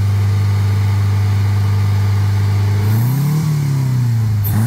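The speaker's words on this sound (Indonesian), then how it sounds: "Akan dilakukan pengegasan untuk menendang keluar kerak-keraknya yang terproses." A VW Combi engine fitted with a double blackcore setup idles loudly with a steady low drone, then gets blipped so the revs rise and fall in a swell before settling again, close and continuous with no talk.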